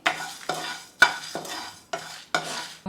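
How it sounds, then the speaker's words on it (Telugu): Whole spices, coriander seeds, fennel, cumin and dried red chillies, dry-fried and stirred in a pan, with about six sharp scraping stirs at a steady rhythm, close and fairly quiet, each trailing into a soft sizzle. "ధనియాలు, సోంపు, జీలకర్ర, స్పైసెస్ అన్నీ, రెడ్ చిల్లీ, ఇవన్నీ బాగా ఫ్రై చేసుకోవాలి."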